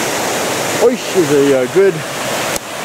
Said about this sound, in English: another human contrived waterfall above